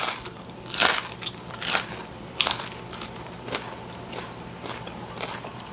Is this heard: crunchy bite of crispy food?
yes